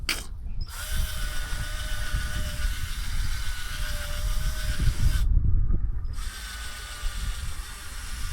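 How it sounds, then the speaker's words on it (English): A drill bit bores out a ground-wire hole for a thicker bolt during a subwoofer install in a 2027 Kia Telluride X-Pro, giving a steady whirring drill with grinding, ratchety chatter, nearby and continuous with a short pause near the end. "right now I'm using this drill bit to try to widen my ground wire"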